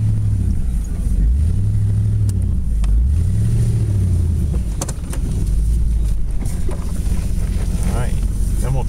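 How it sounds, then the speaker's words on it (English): A vehicle backing up on good tires near a stone wall project in Nottingham, New Hampshire: a steady, loud engine drone with rising and falling revs, close to the microphone, with wind noise and scattered knocks. "Now we're going to try backing up."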